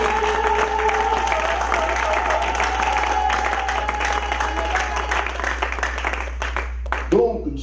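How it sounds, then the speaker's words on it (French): A church congregation applauds loudly, a dense continuous wash of clapping and crowd noise over a steady low hum, lasting several seconds before thinning out near the end. "Est-ce que tu peux applaudir très fort pour ce Dieu?"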